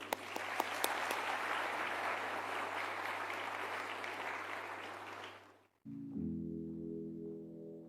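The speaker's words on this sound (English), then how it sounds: "Ladies and gentlemen, a round of applause for Neo Mooki." Sustained audience applause fills a business engagement event, dense and even, then cuts off abruptly and gives way to a loud tonal music sting.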